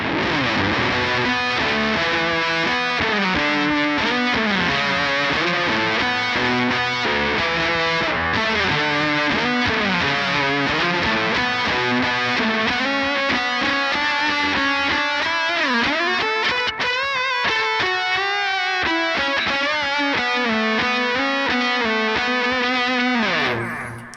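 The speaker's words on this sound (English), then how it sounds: "really heavy fuzz riff, which sounds like this." A dense, heavily fuzzed electric guitar riff through a Line 6 Helix LT, grinding on continuously, thick and saturated, played loud with no talking.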